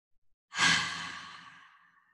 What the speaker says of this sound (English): hold the breath a moment and release the breath through the mouth